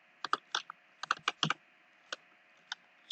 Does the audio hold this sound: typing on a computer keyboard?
yes